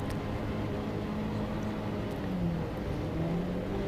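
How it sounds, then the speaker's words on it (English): A Class 10 off-road race car pulls away at the Mint 400 desert race, its engine a distant, steady drone under broad background noise, with a faint rising tone as it takes off. "that is the first place Class 10 car as he takes off behind us"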